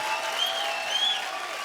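A studio audience on a Hindi comedy talk show applauds, a dense, steady wash of clapping that holds for the whole moment without any speech.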